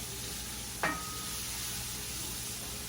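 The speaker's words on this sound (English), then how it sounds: "you wanna saute this until that garlic just starts to get a little bit brown and toasty" Garlic sautéing in a hot pan gives an even, continuous sizzle throughout, broken once by a single brief clink early on; no voices.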